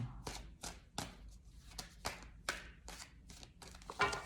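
Tarot cards being shuffled by hand, a run of crisp riffling bursts and soft taps repeating roughly every half second, close and fairly quiet, with no talking.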